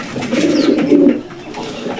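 A domestic pigeon at its caged nest gives a soft, throaty coo, one rolling call close by with no other sounds around it.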